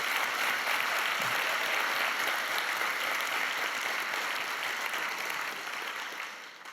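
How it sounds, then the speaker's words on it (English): Audience applause for Berlingske Media at the global final of a CBS case competition, a dense steady clapping from a large crowd that holds loud throughout and eases slightly toward the end. "So a huge applause to Berlingske Media as well"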